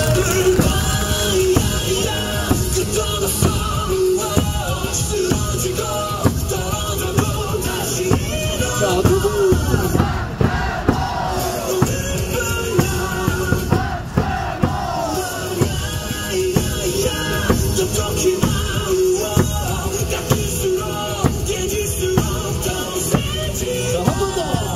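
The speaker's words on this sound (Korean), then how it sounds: "우리 1번 타자 박철우 선수에게 박수를 부탁드립니다" Dense baseball stadium crowd at a Korean ballpark cheering and clapping for the leadoff batter, a continuous loud roar of voices, chants and claps with scattered yells, no pauses throughout.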